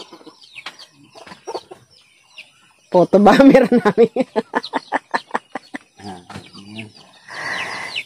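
Chickens cluck close by in a burst of rapid, repeated clucks, with a person talking briefly before and after.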